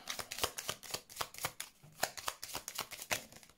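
Tarot cards being shuffled and drawn, a run of quick, crisp riffling bursts in an uneven rhythm, close and fairly quiet with no talk.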